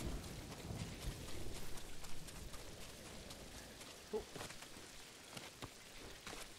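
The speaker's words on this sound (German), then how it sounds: "Jetzt regnet es nämlich auch schon wieder." Steady rain hiss fills the scene in Ghost of Tsushima, with scattered louder spatters and faint low rumbles underneath, no voices.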